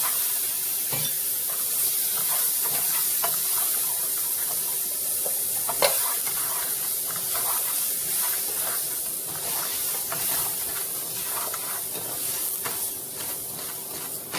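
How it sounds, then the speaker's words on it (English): Rice browning in a pan for Spanish rice, stirred continuously: an even, hissing sizzle with regular scraping and clinking strokes close by, one sharper knock midway, no talk. "just keep stirring it till it's a light brown"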